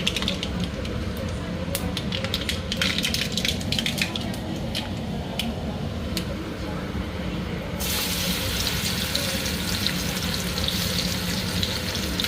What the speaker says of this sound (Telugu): అదే నూనెలో మామిడికాయ వేసా.